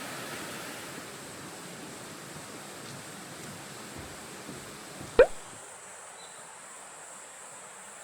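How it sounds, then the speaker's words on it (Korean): Steady broadband rush of a mountain stream flowing beside a wooden deck path fills the clip, with a single sharp knock or click near the end. "옆에 바로 계곡이 흘러갖고 계곡 물소리까지 들으니까 더 좋은"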